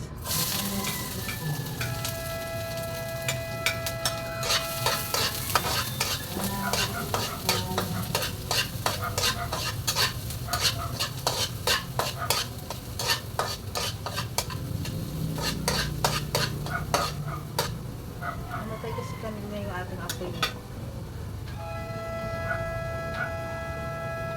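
Onion being stir-fried in a pan for pancit canton, with steady sizzling throughout and repeated rhythmic scrapes and clicks of a utensil stirring against the pan, close and fairly loud.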